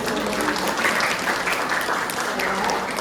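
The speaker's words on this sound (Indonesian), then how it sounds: "Tepuk tangan buat kita semua." A room of children and parents breaks into applause at an Indonesian family talk event, a dense, steady clapping that carries evenly throughout with a faint murmur of voices mixed underneath.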